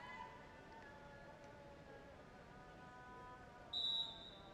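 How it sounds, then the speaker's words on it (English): A referee's whistle starts the second half of a men's field hockey match between New Zealand and South Africa at the Sultan of Johor Cup, one sharp blast after a quiet stretch of faint stadium ambience. "And there goes the whistle."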